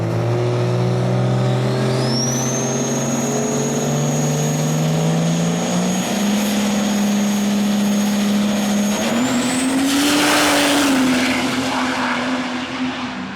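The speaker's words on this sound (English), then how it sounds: "Great run for Wade, 447 with a 3 at 168." A Duramax diesel dragster makes a drag racing pass, its loud engine drone climbing steadily in pitch, with a gear shift, then a final surge of roaring noise near the end.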